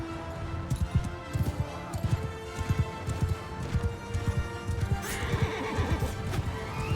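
Horses gallop and neigh in Mount & Blade II: Bannerlord, with steady rhythmic hoofbeats pounding close by and repeated whinnies rising over the running.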